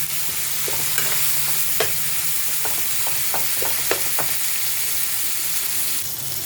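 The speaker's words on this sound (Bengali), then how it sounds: "আর একটু তেল দেব ভালো করে মশলাটা কষিয়ে নেব" Spice paste frying in oil while being stirred, a steady close sizzle broken by repeated scraping strokes of the spoon at an irregular pace, with no voices.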